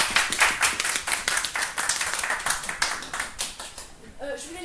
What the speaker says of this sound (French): Bravo Christelle, on peut l'applaudir.